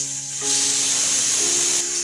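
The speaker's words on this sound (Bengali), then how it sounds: "এবার আমরা প্রেসার কুকারটা আটকে নেব, দুটো সিটি দিয়ে নেব" Steam hisses out of a pressure cooker as chana dal cooks, a broad loud rush that holds steady for most of the two seconds, with a faint tonal whistle beneath it.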